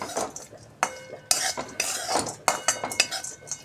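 Almonds roast in a pan while a spoon stirs and scrapes them, giving irregular clattering strokes and rattling nuts. The sound is close and fairly loud, with short gaps between the pushes.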